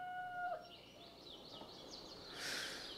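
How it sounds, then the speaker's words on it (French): A chicken in the Gobliins 2 video game clucks in a string of short pitched calls after a brief tone, ending in a burst of noisy squawking, with no talk. "Une poule!"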